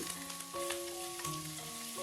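Ginger, green chillies and curry leaves roast in hot oil for Kerala-style upma, giving a steady, close sizzle and crackle throughout with no talking.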